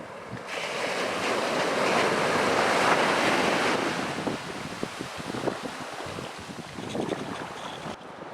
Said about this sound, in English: Surf's up.